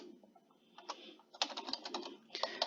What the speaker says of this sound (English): If I type in crafting table